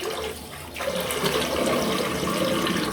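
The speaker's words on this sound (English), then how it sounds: "Empty the sink and splash the cold." Water drains from a sink and cold water splashes from the tap, a steady close gush and gurgle throughout.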